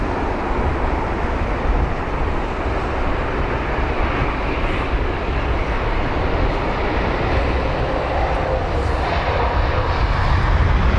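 Emirates jet airliner engines roaring at London Heathrow, a steady, loud, broadband rumble and roar held throughout with no letup and no voices.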